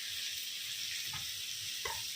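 A tomato and spice masala with ginger paste, cumin, chili and garam masala sizzles steadily in hot oil as it is sautéed, a close, continuous frying hiss with a couple of faint stirring knocks.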